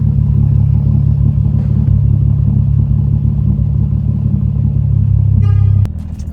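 A modified Infiniti G35 engine revs hard under throttle, a loud, steady, raspy drone held close for several seconds before cutting off sharply near the end.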